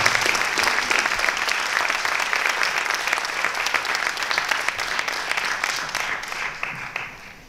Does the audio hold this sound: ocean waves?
no